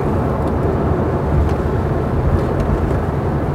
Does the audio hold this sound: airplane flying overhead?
yes